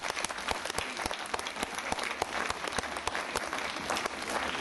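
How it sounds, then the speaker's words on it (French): A hall audience at a civic event in Nice gives a dense, steady round of applause that carries evenly throughout, with no voice over it. "Vous pouvez les applaudir."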